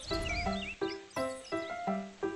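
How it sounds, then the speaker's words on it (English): A horse whinnies in several quick, rising bursts of neighing, heard alone and fairly clear. "Horse, horse."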